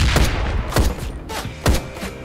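Gunfire in the video game Ride To Hell: Retribution, with three heavy, booming shots spaced roughly evenly over a rumbling background.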